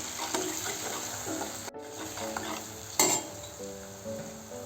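Spoon stirring sprouted moth bean curry with chili powder and salt in a sizzling pan, steady soft scraping over a constant fry hiss, with a sharp clink of a utensil near the end.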